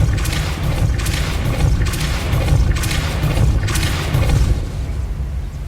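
Depulso spell casts in Hogwarts Legacy, a repeated series of deep whooshing booms that surge and fade in a loose rhythm, loud and close, with little speech over them.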